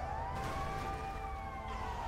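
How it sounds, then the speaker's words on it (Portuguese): Ambulance siren in GTA 5 during an outbreak scene, a steady wailing tone sweeping gently up and down, moderately faint against a background hum, with no talk. "Ambulância aqui, ó."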